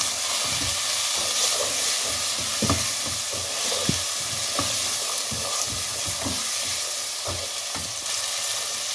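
Ground red chili, turmeric, cumin and coriander powder sizzle in hot oil in a pan for matar pulao, a constant loud hiss broken by frequent spoon scrapes and stirring clatters.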